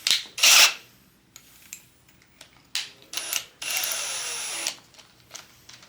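A drill bores a hole into a BMW M54 2.5L engine in short, close bursts of whining, grinding cutting, with one longer sustained pass and quiet gaps between.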